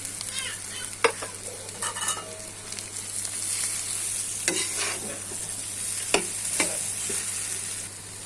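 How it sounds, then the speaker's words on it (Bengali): Leafy greens stir-fried in a pan over onion and garlic, a steady soft sizzle with several sharp scraping clicks of a spatula stirring against the pan, close and fairly quiet, no voices. "এই যে দেখেন কত সুন্দর আমি শাকটা ভাজি করতেছি"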